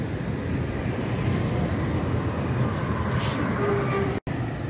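A Gontijo intercity bus moves through a busy bus station, with a loud, steady roar of engine and traffic noise throughout, a hiss of air brakes near the middle and a brief cut near the end.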